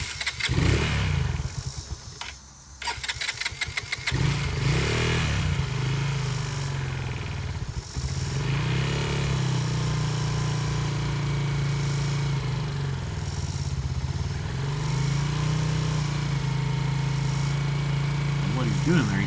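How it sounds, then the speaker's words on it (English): A Lifan KP Mini 150cc motorcycle cranks and catches, then settles into a steady, smooth idle with a low throbbing note, close by and continuous, while someone talks over it. "the engine started really, and it sounds really, really smooth"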